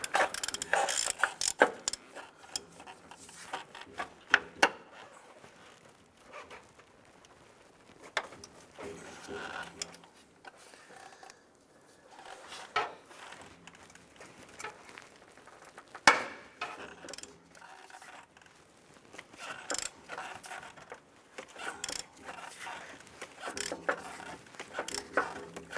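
A ratchet with a 17mm socket clicks in irregular bursts while loosening a transmission mount bolt on a 2001-2005 Honda Civic, fairly quiet, with short pauses between strokes and no talking.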